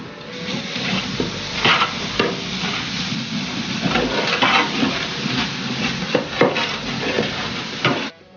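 Onions with turmeric powder, chopped coriander and mint being stirred in a hot pan for Kerala-style beef biryani: loud continuous sizzling with frequent close scraping strokes of a spoon, ending abruptly.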